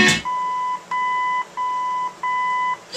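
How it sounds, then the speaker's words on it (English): Electronic beeps from an original AM/FM radio in a 1965 Lincoln Continental set to balance mode: four even, clean tones in a steady on-off rhythm, close and alone. "It's going to beep and do the same thing, but this time we're going to be in the balance mode"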